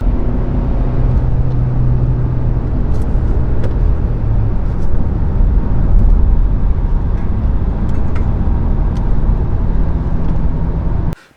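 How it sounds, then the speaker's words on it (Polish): Steady loud roar of tyres and rushing wind inside an off-road Jeep Wrangler driving at high speed on the road, a continuous broadband drone with a low hum, no voices, cutting off abruptly at the end. "słychać po pierwsze opony, bo to słychać, a po drugie słychać opór wiatru"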